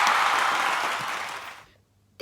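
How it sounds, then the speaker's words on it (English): Brief applause, a short wash of clapping that fades out within about a second and a half, then near silence before a small sound at the end. "let's give you a round of applause"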